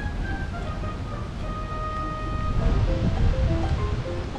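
Strong hurricane-force wind blowing in Chelsea, London, a steady broadband roar that swells louder midway and continues without a break, with no voices.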